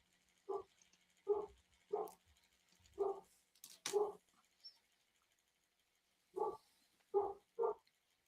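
A dog gives a series of single barks, about nine evenly spaced over several seconds with a pause midway, clear and moderately close in a quiet room.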